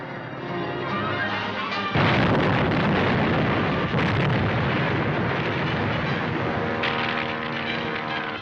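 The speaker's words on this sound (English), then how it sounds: "Fire that gun before Tarn's plane crashes." A gun firing at a plane with explosions in an old action serial: a loud, sustained roaring barrage with sharp surges of blast noise, no voices.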